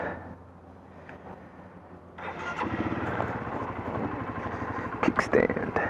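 A motorcycle engine starts up partway through, catching after a quieter stretch and settling into a steady, moderately loud running rumble with a few sharp revs near the end.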